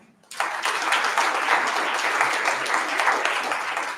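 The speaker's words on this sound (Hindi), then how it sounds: "doctor Mithilesh sir DSW sir, इनके लिए जोरदार तालियां" A seminar audience applauds in honour of an invited speaker, a university Dean of Student Welfare, the clapping starting abruptly after a brief quiet and holding steady as a dense, close crowd roar to the end.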